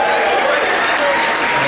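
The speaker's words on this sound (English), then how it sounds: "a big round of applause for DeWitt" Loud, sustained crowd applause for a helper during a Superchunk set at the Merge 25 festival, a dense steady roar of clapping throughout.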